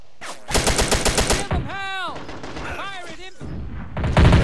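Video game war battle with rapid bursts of machine-gun fire and heavy booms, loud and close, followed by whooshing projectile sounds and more explosions near the end.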